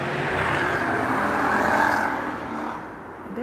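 Loud motorcycles roar past nearby, racing, a swelling engine rumble that builds and then fades as the machines move away.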